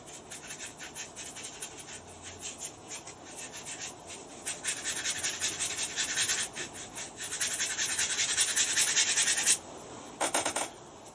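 A paintbrush scrubs acrylic paint onto canvas in a dry, scratchy rubbing sound with uneven strokes that grow louder and denser for several seconds before breaking off near the end.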